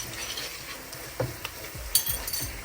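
Onion frying in a pan with crushed ginger and green chilli, a soft steady sizzle broken by a few clinks and scrapes of stirring, fairly quiet and close.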